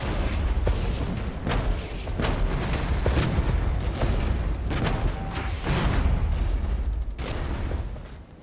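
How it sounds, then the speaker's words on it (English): Artillery shells strike and explode in the Regiments war game during a defensive battle against East German waves, a steady run of heavy booms and thuds piling up over rumbling battlefield noise with no voices. "We can drop another artillery ourselves here."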